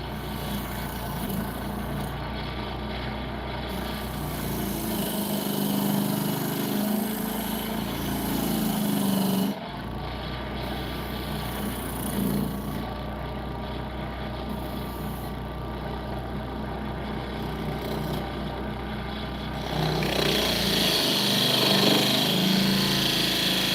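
Wood lathe spinning an Easter turning piece, a steady motor hum under gritty scraping and cutting as a tool rolls the edge, with the tool engaging and easing off in several passes; no talking.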